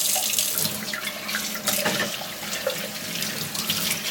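Tap water runs steadily over the Kuvings REVO830 whole juicer parts as they are rinsed in a sink, a continuous close splashing stream with slight shifts as the parts move under it.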